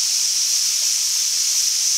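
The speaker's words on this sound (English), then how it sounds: "Then the steam will start venting out here." Steady, loud hiss of steam escaping from a pressure canner vent while dry pinto beans are being canned, a continuous even rush with no talk over it.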